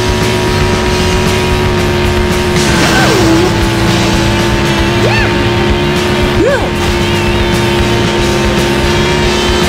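Steady looping car engine drone in a Sonic Adventure 2 racing stage, a constant buzzing tone with small pitch swoops from game effects, loud and unbroken throughout, with faint talk underneath.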